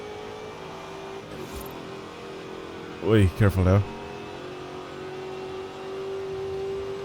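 Ford Mustang engine in Forza Horizon 5 hums steadily at low rev with a brief louder rise near the end, while a person speaks in short bursts over it.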